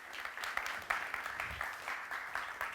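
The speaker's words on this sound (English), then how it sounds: "A round of applause, thank you." A conference audience applauds a speaker at a blockchain event, with steady, dense clapping from many hands filling the room for a few seconds and no talking over it.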